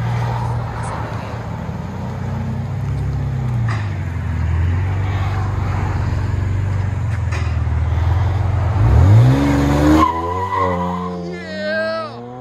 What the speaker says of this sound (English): BMW Z4 with vibrant rear mufflers and carbon fiber tips.